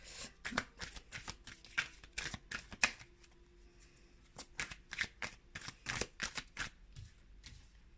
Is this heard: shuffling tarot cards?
yes